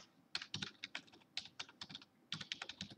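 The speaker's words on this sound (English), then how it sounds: "And I'll type in the school address." Someone types on a computer keyboard, a close, clicky run of uneven keystrokes in quick bursts with short pauses between, no talking.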